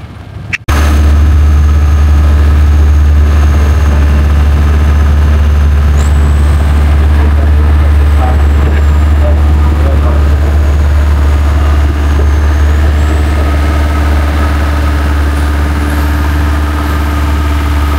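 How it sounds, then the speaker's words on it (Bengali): A long-tail boat engine carrying a load of 20 to 22 passengers out toward Maya Bay in the Phi Phi Islands, Thailand, drones steadily and loudly for the whole stretch with a deep, constant rumble and no voices. "লং টেল বোটের জার্নিটা কিন্তু খুবই এনজয়েবল।"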